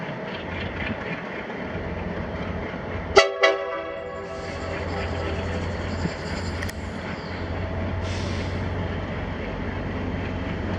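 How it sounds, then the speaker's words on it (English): A pair of Alco diesel locomotives, double-headed, sound a single sharp horn blast with a short echo over a steady low engine rumble at a railway museum, and people talk faintly in the background. "That's an Alco. Gotta be Alco locomotives to make that much smoke."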